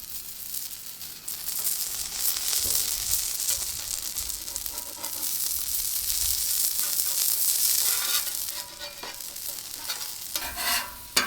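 Beef brisket sizzles in its own rendered tallow with no added oil, a loud, steady frying hiss broken by scraping stirs of the meat throughout, with no talking.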